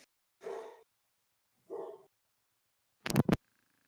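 Dogs barking at home, two hoarse mid-pitched barks a second apart followed by a sharper, louder yip, close to the microphone with no talk over them.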